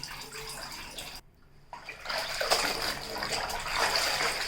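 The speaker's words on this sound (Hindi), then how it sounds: "इस तरीके से बिना फोल्ड किए बस हम इसे रिंस कर लेंगे।" Heavy household curtain rinsed by hand in a tub of water without folding, giving a steady close swish and slosh of water that briefly drops out, then returns fuller and louder.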